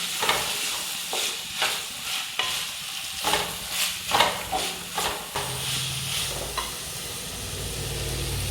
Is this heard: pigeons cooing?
no